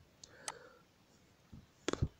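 A computer mouse clicks sharply and sparsely at close range, a few single clicks early and then a quick cluster of two or three near the end, over a quiet room.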